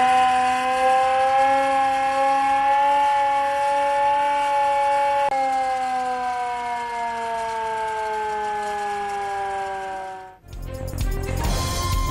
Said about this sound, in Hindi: रात गए सिविल डिफेंस ने सायरन बजाकर खतरे का अलर्ट जारी कर दिया।